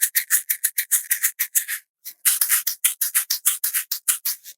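A homemade shaker filled with lentils or rice gives a bright, gritty rattle close by: a run of brisk rhythmic shakes, a short pause, then a second longer run, with no talking.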